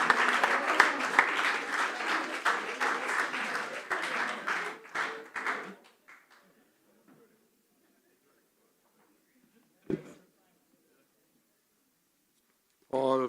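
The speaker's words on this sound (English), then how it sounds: "sound of the applause, that was a very popular statement" Audience applause at an annual general meeting, fairly loud and dense at first, then thinning out and fading to near silence within about six seconds, with a few isolated faint sounds afterward.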